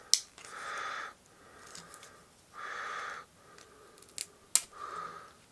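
A first 3D print being peeled off the bed of a Creality Ender 5 Pro, heard as three drawn-out ripping, crackling pulls separated by pauses, with a few sharp snaps near the end, close and fairly quiet.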